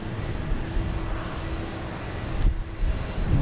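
An airliner taking off at Houston Intercontinental Airport, a broad distant engine roar that holds steady and fills the air, with a faint rumble swelling slightly toward the end and no voices.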